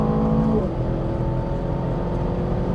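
A car on the Las Vegas F1 street circuit drives with a loud, steady, close engine drone; its pitch drops noticeably early on as it brakes hard and turns in, then holds a lower rumble.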